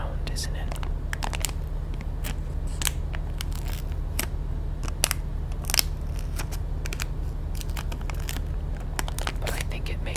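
Sticky tape handled right at the microphone in a close ASMR setting, with irregular crisp crackles, peels and taps over a steady low hum, with quiet whispering.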